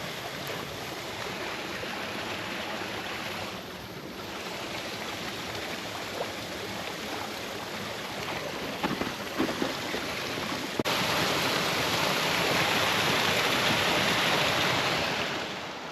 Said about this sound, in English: I'm just following this creek